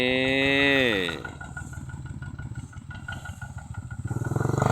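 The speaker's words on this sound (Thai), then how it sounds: "นี่เจ้าคีบสูบเดียวนะครับ" A single-cylinder farm engine machine running close by, a rapid rhythmic chugging and clattering that follows a brief rising whine at the start and grows louder toward the end.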